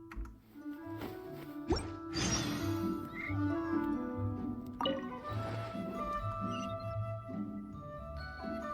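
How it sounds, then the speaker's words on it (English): Cat meowing in the video game Genshin Impact, a few short mews amid game music and effects, fairly faint under the soundtrack. "Aw, that's a good kitty, Sir Pouncelot."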